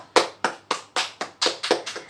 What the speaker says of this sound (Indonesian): Tepuk tangan dulu untuk Ridho